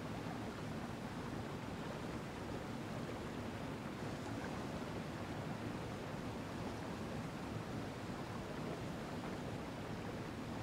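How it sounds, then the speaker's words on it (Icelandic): The Breiðdalsá river runs in small currents over rock ledges, a steady, dense rushing wash with no pauses, heard up close. "Hér rennur áin í nokkrum litlum strengjum að klöppunum"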